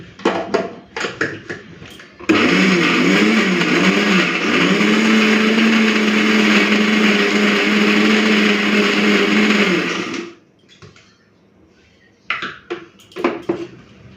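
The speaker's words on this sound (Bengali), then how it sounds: "জল ছাড়া কুঁদরি আর চিংড়িটাকে বেটে নেব" A blender grinds ivy gourd and shrimp without water: a loud, steady motor whir that runs for about eight seconds after a few short clicks and handling noises, then cuts off, followed by brief clatter.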